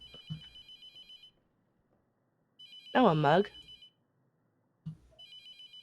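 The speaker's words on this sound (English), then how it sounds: "I'll stop ignoring the phone" In the horror game Mortuary Assistant a telephone rings with a repeating electronic trill. The trill comes in bursts separated by pauses, and someone speaks briefly over one of the rings.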